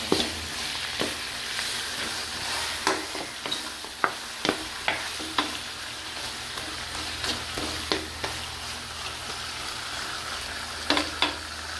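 Garlic and onion sauté for pork steak in a hot pan, a continuous close sizzle broken by a dozen sharp scraping stirs and utensil taps at irregular intervals, with no one speaking.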